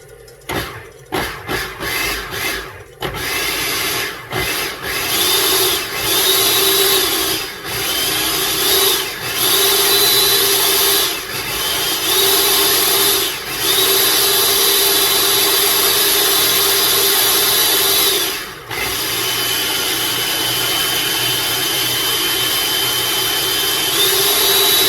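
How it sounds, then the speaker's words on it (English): A food processor pulses almond flour and powdered sugar for macaron batter, giving a loud, dense whirring grind that starts in short choppy bursts, then runs steadily with brief dips, alone without talk. "while we pulse our mixture of almond flour"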